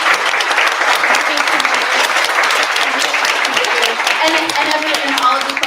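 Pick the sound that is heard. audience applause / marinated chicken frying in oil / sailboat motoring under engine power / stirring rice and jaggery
audience applause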